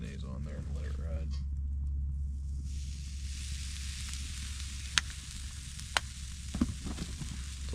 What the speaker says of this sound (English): It's also a good sign because it's sizzling